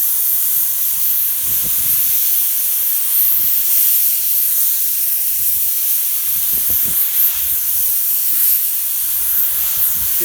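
Compressed air hisses from a nozzle as dust is blown out of a Toyota Hilux air filter box outdoors, a continuous bright spray with intermittent low gusts of wind rumbling underneath.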